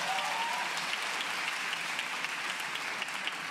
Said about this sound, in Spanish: Un aplauso para Rodri, por favor, en el escenario.